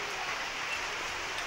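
Steady rain falls outside a small home kitchen during a downpour, a continuous soft hiss of drops with no clear gaps, heard alone without voices.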